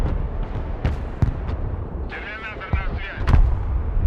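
Artillery fire in the video game Broken Arrow, with several sharp booming impacts scattered across a rumbling battlefield, while a voice talks over part of it.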